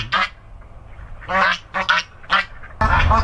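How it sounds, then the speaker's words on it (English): Several ducks quack in short separate bursts, fairly close, followed by a sudden rush of louder noise at the end. "In here with the ducks and the geese."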